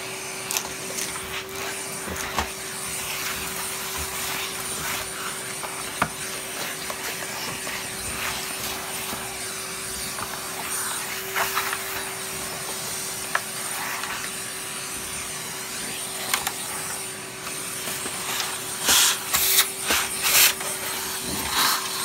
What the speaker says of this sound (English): Let's just vacuum up the mess.